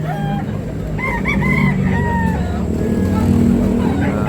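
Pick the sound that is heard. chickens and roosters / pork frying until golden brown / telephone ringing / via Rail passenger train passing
chickens and roosters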